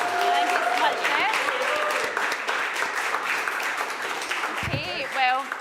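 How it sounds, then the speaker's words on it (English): An audience applauds a host at an out-of-home advertising awards event, steady clapping with voices and tonal sounds faintly mixed in. "give him a round of applause for hosting"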